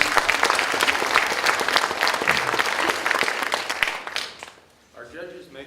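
Sustained audience applause at a judged public speaking showcase, dense clapping that fades out, followed by a voice beginning to speak.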